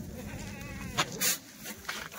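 A Kathiawadi goat bleats a few short, nasal calls close by, with quiet voices and farmyard background under them.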